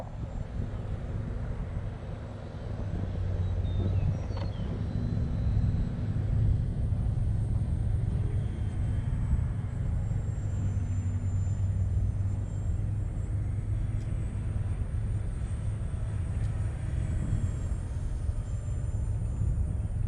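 An RC model airplane flies overhead, a steady droning engine hum with a low rumble that holds at a constant level for about twenty seconds, with no talking.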